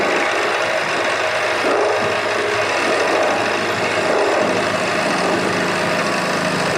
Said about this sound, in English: Now keep in mind, olive is very easy to drill.